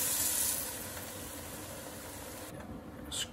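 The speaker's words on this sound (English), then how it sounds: "the liquid's gonna heat up and it's gonna steam all of those tasty bits off of the bottom" Lager hitting a hot pan while deglazing hisses and steams, loudest at first and then easing into a steady sizzle with faint scraping, heard close up.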